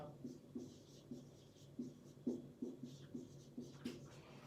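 Marker or chalk strokes on a board during a Turkish history lesson, a series of short scratchy taps and squeaks in an irregular rhythm, close and fairly quiet, with no talking.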